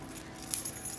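A brief, faint jingle of keys shaken in a room at home, a light metallic rustle lasting about a second with no voices over it.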